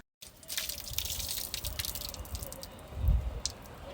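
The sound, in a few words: water leaking from dried-out timber distillery vessel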